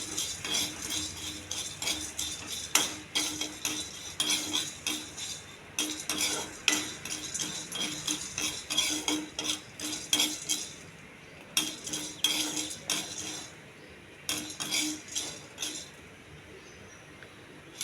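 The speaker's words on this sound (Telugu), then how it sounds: "పచ్చిమిర్చి, చింతపండు ఇవన్నీ వేసి బాగా వేగించాలండి. నూనె ఏమి వేయద్దు, కొంచెం దోరగా వేగించాలి." Green chillies and tamarind are dry roasted in a pan without oil for a coriander coconut chutney, a spatula scraping and clinking in repeated bursts with short pauses over a faint sizzle, with no talk.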